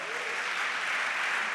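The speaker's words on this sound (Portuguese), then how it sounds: "Dá uma salva de palmas, ajuda eu." A congregation applauding during a church sermon, a brief, dense and even wash of clapping with no pauses.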